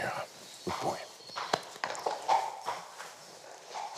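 A very large horse walks nearby, hooves clip-clopping in an uneven rhythm of several steps while people talk over them.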